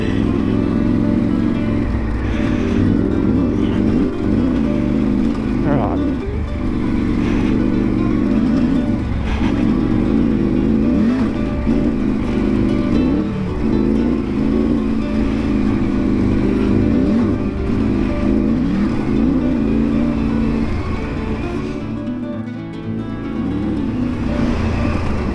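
A secondhand Triumph 900 RP motorcycle engine runs loud and steady for the whole stretch, its dense drone rising and falling with a few revs and briefly dipping near the end, with no talking.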